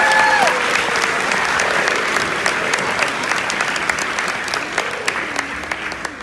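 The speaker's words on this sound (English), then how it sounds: "Let's give them a round of applause." A crowd at a high school veterans' ceremony applauds JROTC leaders and cadets with loud, sustained clapping that holds steady and thins a little toward the end. A brief whistle-like tone rises near the start.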